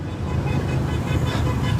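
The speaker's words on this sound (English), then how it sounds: "They're honking." Dense roadway noise from the Woodward Dream Cruise car event, engines rumbling nearby, and faint car horns sounding through the steady traffic din.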